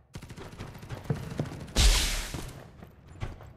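Automatic gun fire in Farlight 84, a rapid burst of shots followed by a loud, sharper blast, up close and punchy with short echoing tails.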